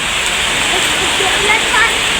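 Steady, dense rain hisses without letup, an even wash of noise throughout the short stretch, falling on a tricab.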